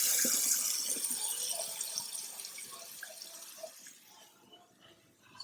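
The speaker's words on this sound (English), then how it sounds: "I'll turn the water on just to observe if there will be any leaks anywhere" Water from a kitchen sink faucet above a garbage disposal rushes and splashes, loud at first and then tapering off into softer trickles and scattered drips as the flow stops.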